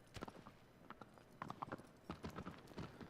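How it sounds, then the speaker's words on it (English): A horse's hooves clip-clop in the Shadow of the Colossus video game, a quick, irregular run of close hoof strikes with faint background ambience. "Interestingly enough, the horse doesn't want to go."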